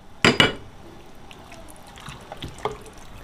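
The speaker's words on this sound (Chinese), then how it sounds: "我们把洗干净的羊肉下到砂锅里" Washed, salted lamb pieces go into a clay pot: two sharp, close splashy thuds of meat hitting liquid, followed by quieter wet knocks and drips.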